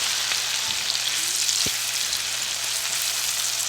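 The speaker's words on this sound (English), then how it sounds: "take your veggies that we just chopped and toss them in there and fry them until tender" Chopped vegetables fry in bacon grease in a pan, giving a steady, close sizzle and crackle that runs unbroken, with one brief clink of a utensil partway through.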